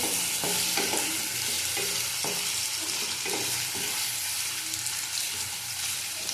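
Prawns frying in a pan for chingri jhal, a loud, continuous sizzle with repeated stirring scrapes and clatters close by.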